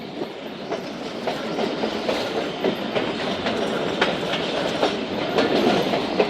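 Thal Express passenger train runs along the railway track on a big curve, a continuous loud rumble with rhythmic clickety-clack of wheels over rail joints throughout.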